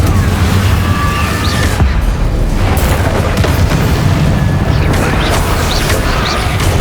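An Incendio fire spell is cast against Inferi in the video game Hogwarts Legacy. Loud, continuous booming blasts and bursts of roaring fire build into a dense, crashing barrage, with no voices.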